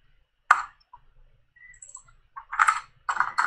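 Clicks and clatter of typing on a computer keyboard come in a few short bursts with gaps between them, close and fairly clear, with no talk over them.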